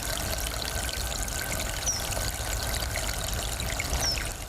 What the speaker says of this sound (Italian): Il suono inconfondibile di una sorgente